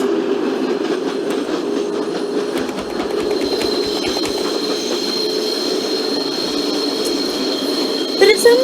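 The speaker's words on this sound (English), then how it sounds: "lovely kind of flange squeal on the track" Open BVE simulator of an NYCT R142A subway train on the 6 Express from Pelham Bay: a steady, high, sustained flange squeal rings over a loud rolling rumble of wheels, with faint rhythmic clicks of track joints.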